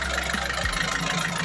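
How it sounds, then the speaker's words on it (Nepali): A bus diesel engine idles steadily at a low, even rumble, continuous throughout with no voices over it. "इन्जिन देखाउन गइरहेको छु, इन्जिनको आवाज सुन्नु होला, एकदम फ्रेश आवाज छ साथीहरु।"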